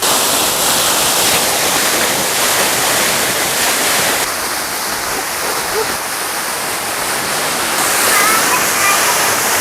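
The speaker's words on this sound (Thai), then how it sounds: "ตอนนี้เราอยู่ที่น้ำตกแสงจันทร์นะครับ" Saeng Chan waterfall in Thailand roars as a loud, continuous broadband rush of falling water close by, steady throughout with slight shifts in texture.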